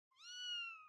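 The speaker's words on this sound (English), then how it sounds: "Your meows are so cute." A single drawn-out cat meow in the video game Blue Archive, clear, close and rising slightly in pitch before trailing off, alone with no talk over it.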